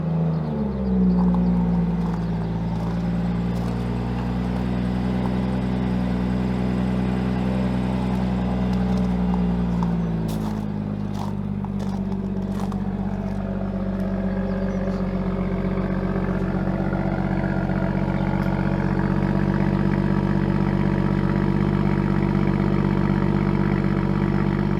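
A 2017 BMW M540i with its 340-horsepower six-cylinder engine drives along steadily, a low engine drone that shifts in pitch partway through as it changes speed, heard from inside the car with no talk.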